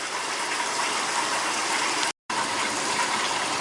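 An aquarium sump filling with water as its pump starts, a loud, continuous rushing gush with a mechanical undertone, broken by a brief sharp dropout near the middle, with no voices.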